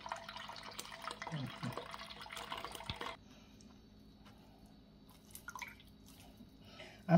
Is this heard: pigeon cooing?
no